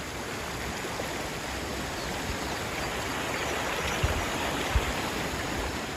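Continuous roar of the flooded Sabarmati River below Dharoi Dam, even and dense throughout, with a couple of faint low knocks and no one speaking.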